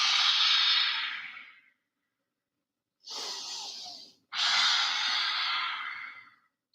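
Three long, audible breaths during a guided yoga session, a slow airy exhale, a pause of silence, then two breathy inhale-exhale pushes, close and unhurried with no talking.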